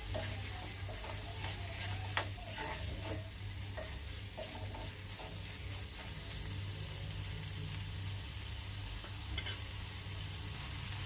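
Small shrimp coated in masala sauté in a pan with a continuous close sizzle, punctuated by repeated scraping stirs of a spatula against the metal; no talking.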